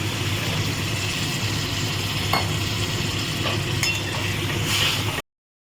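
Water poured into a pan of frying potatoes and spices raises a loud, steady hissing sizzle with a few faint clinks of a spoon, continuous until it stops abruptly.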